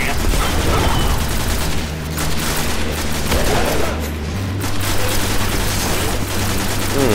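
Grenade blasts and rapid gunfire from the Destiny video game on Xbox One fill the scene, with dense, loud, continuous shooting, heavy booms and a low rumbling underlayer throughout.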